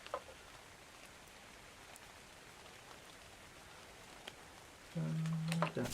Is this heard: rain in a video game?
yes